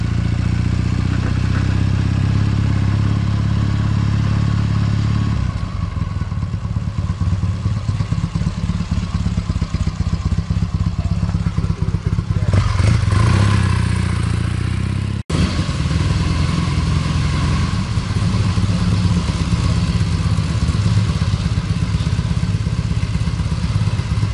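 A 1974 Triumph T140V motorcycle engine runs steadily close by for the whole stretch, a continuous loud mechanical drone with a brief clattering swell partway through and no talk over it.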